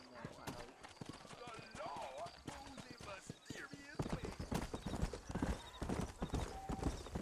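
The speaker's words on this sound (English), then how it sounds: "Trying to ride a horse" Rapid clip-clop of horse hooves galloping in the video game Red Dead Redemption, with a brief whinny, under excited talking and game sounds; steady and fairly loud throughout.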